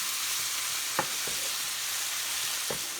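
Vegetables sauteing in a hot pan for Southern cornbread dressing give a steady, close frying hiss, with a few soft stirring taps breaking through.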